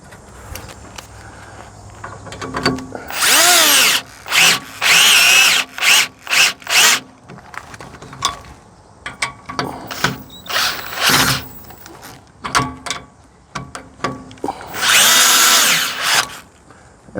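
Bolts driven tight with a power drill while installing an OEM camper package on a Ford F250, loud whirring bursts of varying length, some short pulses, with pauses between and no talk.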